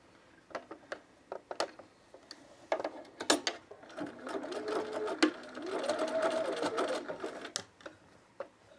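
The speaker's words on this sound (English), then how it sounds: "let's try sewing this from the fabric side" A sewing machine stitches fabric for underwear with picot elastic, a few short isolated whirs and clicks at first, then a longer steady run of rapid mechanical stitching, fairly quiet and close.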